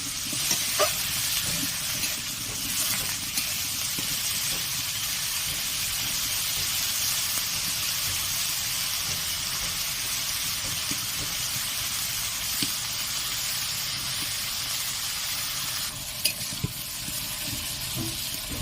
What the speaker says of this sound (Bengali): বেগুনগুলোকে হালকা করে ভেজে নেব।